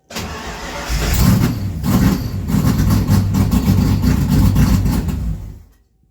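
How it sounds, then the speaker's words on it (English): An Isuzu Trooper's engine is cranked and catches, then runs roughly with an uneven, loud, close rumble that surges and sags for several seconds before being shut off and cutting out abruptly, with no talking. "It runs, just not very well yet."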